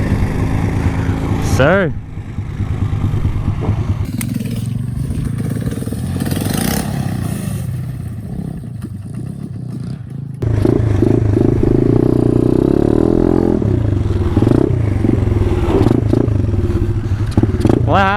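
A Taotao pit bike engine revs hard as its tires spin in mud, rising and surging in a loud, close, continuous drone with clattering, and a voice briefly calls out.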